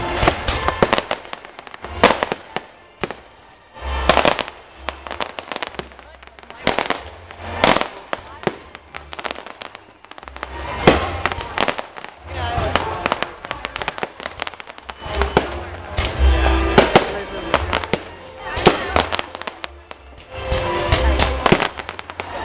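Fireworks bursting at Busch Gardens theme park: a long run of sharp cracks and booming explosions, some in rapid clusters, with people talking and exclaiming between bursts.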